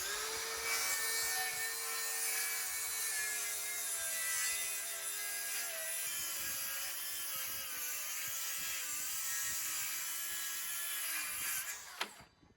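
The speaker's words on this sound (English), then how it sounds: "So now let's run the FlexVolt advantage saw against the actual FlexVolt saw using a 6 amp hour FlexVolt battery" DeWalt FlexVolt cordless circular saw cutting wood with a 6 amp hour FlexVolt battery, a loud high whining motor with a shifting pitch, dropping under load partway through, then spinning down with a sharp clack at the end.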